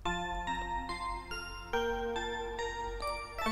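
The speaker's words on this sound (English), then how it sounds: "That's the sound of her HP going back up again." HP restoring sound effect in the Trails of Cold Steel video game: a bright, chiming tinkle of stacked tones rising in short steps over about three and a half seconds, with no talk.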